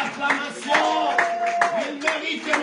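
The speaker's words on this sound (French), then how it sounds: "Est-ce qu'on peut acclamer pour la gloire de Dieu?" A church congregation at a French-language praise service claps and acclaims, with rhythmic clapping bursts and sustained voices and a singing tone riding over a steady crowd din.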